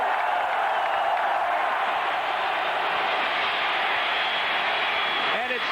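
Arkansas football stadium crowd at a 1991 Texas vs Arkansas game, a steady, dense roar of thousands of fans sustained throughout, broadcast-style with no break.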